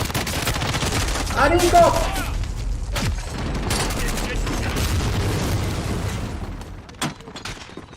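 Rapid bursts of automatic gunfire and single shots crack through a Call of Duty match, mixed with explosions and game effects, while players talk and shout over the shooting.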